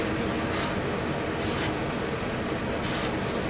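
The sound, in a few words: writing by hand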